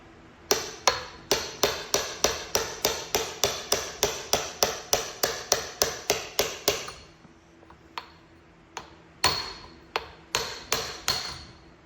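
Metal hammer tapping a part into a Land Rover 110 axle in a workshop: a fast, steady run of about twenty close, sharp strikes, a pause with a few isolated knocks, then another shorter burst of blows.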